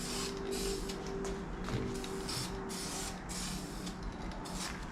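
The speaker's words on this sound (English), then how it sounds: "I don't know if you can hear the different sounds when it's spraying." A spray can hisses steadily and close up while paint is applied to a car wheel being refinished, with short pulsing bursts layered over a continuous airy spray.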